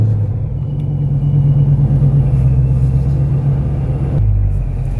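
A Procharged Dodge Charger Scat Pack drives along with a deep, steady engine rumble heard from the cabin. The drone holds even throughout, with a brief drop in tone near the end.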